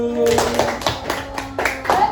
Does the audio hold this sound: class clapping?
yes